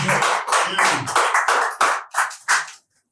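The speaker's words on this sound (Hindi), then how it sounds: "एक बार पुनः आप लोग जोरदार ताली बजाएं" Clapping from the audience at a poetry gathering, a short run of loud, close claps in uneven bursts that grow sparser and end in silence.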